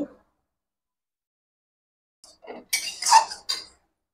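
Tomato stirred into a masala in a pan, heard as a short run of metal spoon scrapes and clinks against the pan after a long near-silent pause, close and fairly loud, with no sizzle.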